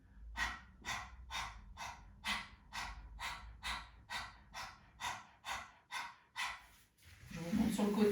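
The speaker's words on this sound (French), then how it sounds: "on inspire de moitié, on ouvre la bouche, on tire la langue, et on expire" Rapid breathing exercise with open mouth and tongue out, about thirteen sharp, evenly spaced exhalations from the belly, close and fairly quiet, ending with a louder rush of breath.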